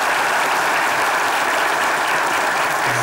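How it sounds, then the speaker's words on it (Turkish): Loud, dense applause from a studio audience for the performers of a comedy sketch, a continuous roar of many hands clapping at once and holding steady throughout. "Cenan, Arif, Tuba ve Ebru'nun performansına ayrı bir alkış alalım hakikaten"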